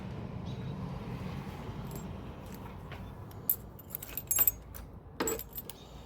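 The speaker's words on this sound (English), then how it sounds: "Now we're going to grab our keys and see if this thing will at least turn the power on" Keys jangle close by in a quiet space, a few short metallic rattling bursts in the second half after a low steady background hum.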